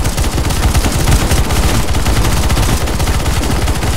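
Rapid, sustained automatic gunfire from the CS:GO zombie escape game rattles continuously at close range, loud and dense with overlapping shots and no pauses.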